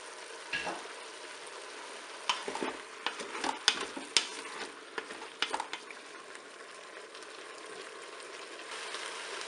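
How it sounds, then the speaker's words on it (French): Potatoes brown in a Cookeo multicooker with a soft, steady sizzle, broken in the middle by clustered clicks and scrapes of stirring, then a quieter frying hiss. "Je vais remettre mes pommes de terre dans la cuve."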